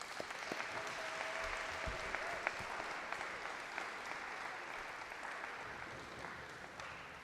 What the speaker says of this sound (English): I would like to ask everybody to give a round of applause